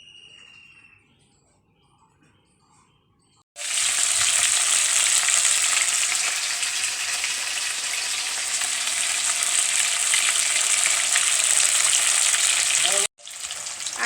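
Aila fish fries in hot oil with a loud, steady, hissing crackle that starts abruptly and keeps going for about nine seconds, then briefly drops out.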